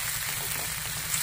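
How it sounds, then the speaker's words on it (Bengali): Chopped onion sizzles steadily in hot oil in a Bengali prawn curry pan, a dense continuous frying hiss without any voices, brief and even throughout. "পেঁয়াজ কুচি দেওয়ার পরে একটু নাড়াচাড়া করে"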